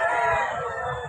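A rooster crows at a chicken shop in San Jose de Montemocan, Bulacan, one loud, close, sustained call.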